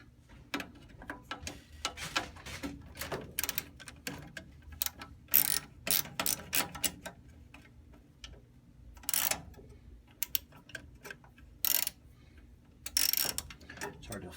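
Ratchet with a 1/4-inch socket backing out a small screw from a Bryant/Carrier 395B furnace control board, quick bursts of close, crisp clicking pawl ticks repeated in short runs with pauses between.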